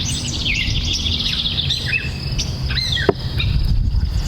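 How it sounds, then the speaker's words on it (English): A house wren sings in a garden, rapid bubbling trills and chirps close to the microphone over a steady insect buzz and low background rumble. "I have a house wren, a beautiful, cute little house wren."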